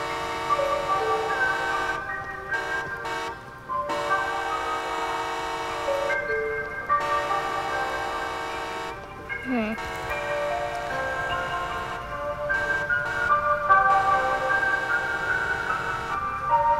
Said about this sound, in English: Wait, that sounds like a horn